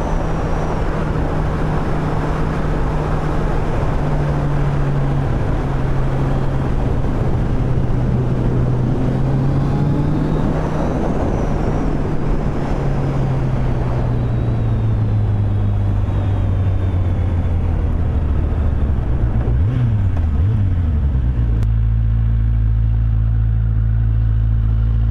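A 2016 Kawasaki Z800 engine drones steadily while riding, with revs gliding up and down over a long stretch, wind roar mixed in, and a downshift blip near the end before it settles lower.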